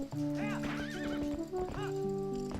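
Epona, a horse in Zelda: Twilight Princess, whinnies in several rising, wavering calls over steady clip-clopping hooves, close and clear with no talk.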